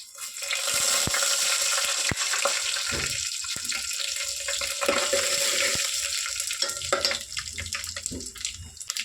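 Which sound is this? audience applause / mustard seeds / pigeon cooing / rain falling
mustard seeds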